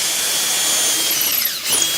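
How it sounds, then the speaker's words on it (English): A power drill fitted with a 3/16 bit spins steadily as it bores through wood, a close, continuous whine that dips briefly near the end as the bit pushes out the far side. "Speed it up and then drill all the way through."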